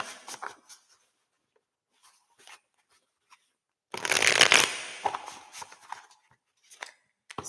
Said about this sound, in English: Let's shuffle these ones a little bit.